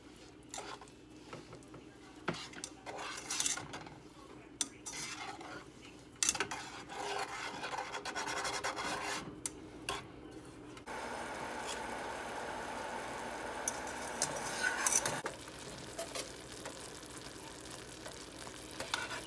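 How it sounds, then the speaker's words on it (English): Krispy Kreme bread pudding mixture is stirred in a pot as it heats toward a boil, with close, repeated scraping and sloshing strokes followed by a steady bubbling sizzle; no one talks. "So you're gonna just stir occasionally until you get to a hard boil."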